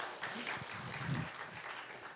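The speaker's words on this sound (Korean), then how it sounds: "우리 강해 주신 목사님께 박수로." Church congregation at a Korean Sunday seminar gives a brief round of applause, a soft, fairly distant patter of clapping with faint voices underneath.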